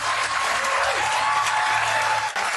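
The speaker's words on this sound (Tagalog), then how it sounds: "Tingnan mo lahat ng mga tanga na pumapalakpak." An audience applauds loudly and steadily in a dense, continuous wash of clapping that tapers slightly at the end.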